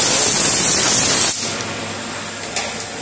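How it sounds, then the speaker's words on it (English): A machine drills and mills slots in Ford C6 pistons, heard as a loud, close, bright hiss that cuts off after about a second, leaving a lower steady machine hum with a small clank near the end. "all this is doing is putting the hole in and just milling these two slots"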